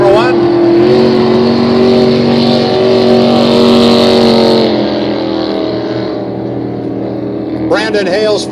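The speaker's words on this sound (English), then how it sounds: "Brandon Cushing will come down to complete his lap number 1" Super Stock racing boat at a regatta running its lap, a loud droning engine holding steady then fading as it passes, with an announcer talking over it.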